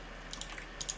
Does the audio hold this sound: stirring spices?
no